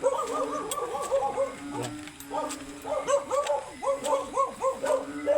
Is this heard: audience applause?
no